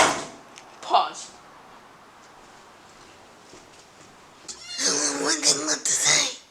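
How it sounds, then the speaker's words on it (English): A house cat in a garage where a 1958 Cadillac is being serviced gives a short, sharp meow near the start, then a louder burst of cries and voices near the end after a quiet stretch. "Go put the cat back."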